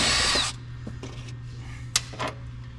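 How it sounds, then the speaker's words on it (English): A power drill backs a screw out of the rusty floor of a 1983 Capri RS: a loud, close half-second whir, then faint clicks and clunks of handling with a low steady hum beneath. "get my drill"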